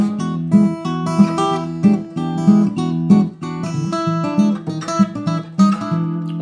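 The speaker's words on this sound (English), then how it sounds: "Now, with Travis picking, it sounds something like this." Fingerstyle blues guitar in E played with Travis picking: a steady alternating bass pulse under plucked treble notes and chords, close and clear, with no voices.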